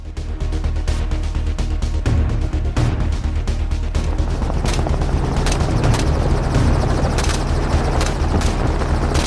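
A helicopter used for hunting wild boar over farm fields thunders loudly with continuous rotor chop and engine roar, with sharp bursts like gunfire cutting in near the start.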